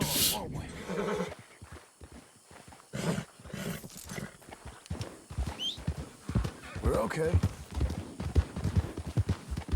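Horse hooves clip-clop in Red Dead Redemption II alongside snorts and whinnies from the horse, arriving in uneven bursts that swell and fade, with someone talking over much of it.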